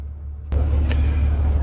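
Steady low engine rumble inside a bus in Katakolon, Greece, beginning after a brief quieter moment and holding loud and continuous, with a faint high whine above.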